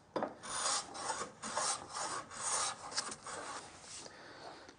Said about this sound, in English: you can hear the hit and miss of the plane.